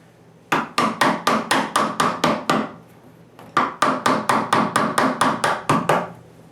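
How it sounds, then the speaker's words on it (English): A chisel is tapped with a hammer or mallet to cut a hinge recess in a new blank wooden door, giving two quick runs of about ten sharp, evenly spaced knocks each, separated by a short pause, loud and close. "what I try to do is lay down the chisel and get it as flat as I can pretty quick."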